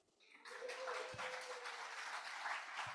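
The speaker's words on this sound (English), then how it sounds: "Let's give them a round of applause." A crowd applauds steadily at a Unitarian celebration, the dense clapping rising after a brief quiet start and holding loud and continuous to the end.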